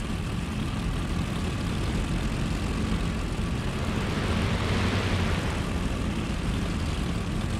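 A WWII fighter plane from a video game on its takeoff roll, its propeller engine droning loud and steady throughout and swelling slightly toward the middle, with no voices.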